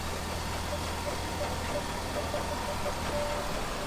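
A 2020 Hyundai Sonata creeps forward on remote self-parking toward a garage door, its engine a low, steady idle hum throughout with faint soft tones from parking sensors.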